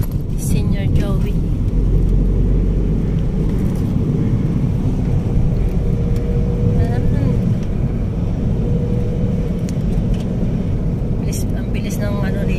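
Road traffic streams past along a busy road in Rizal, a continuous loud rumble of car engines and tyres with occasional horn-like tones, heard from inside a moving vehicle under ongoing conversation.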